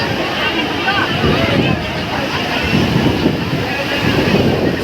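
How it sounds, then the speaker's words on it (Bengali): Large sea waves surge and crash continuously on the beach at Digha during rough weather after a deep depression, mixed with heavy wind buffeting the microphone, loud and unbroken with no clear voices. "সমুদ্রে দীর্ঘ নিম্নচাপ সৃষ্টি হওয়ার কারণে এত পরিমাণ ঢেউ দিচ্ছে।"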